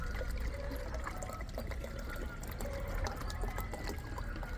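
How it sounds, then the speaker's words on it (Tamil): One litre of water poured into a container while an organic pesticide is mixed for a terrace garden; a steady, continuous pour that stays fairly faint and unbroken throughout, with no talking. "இங்கே பாருங்கள், 1 லிட்டர் தண்ணி எடுத்துகிட்டு வந்திருக்கிறேன். இதை நம்ம இந்த டப்பாக்குள்ளே ஊற்றிடலாம்."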